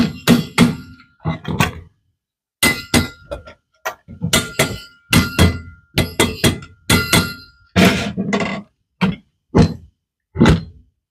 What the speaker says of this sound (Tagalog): Okay, pukpuk ng konti.